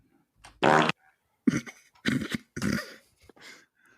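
Several short, sputtering fart noises in a row, one loud and buzzy near the start followed by a few rougher bursts with brief pauses between.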